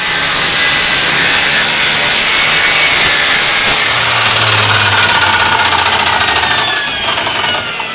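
Small bandsaw ripping yew into thin back panels, a loud continuous buzzing cut that holds steady for the whole stretch with a lower hum entering partway through.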